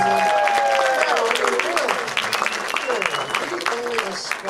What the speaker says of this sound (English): Can we have another round of applause for Molly Gebel, ladies and gentlemen?